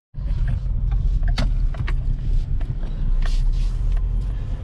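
A 2011 Ford Fiesta with a 5-speed manual transmission is driven and shifted through its gears, giving a steady engine drone with clunks and clicks from the shifter over the road noise.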